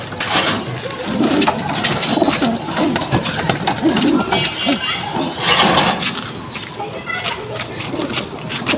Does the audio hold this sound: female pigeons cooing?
yes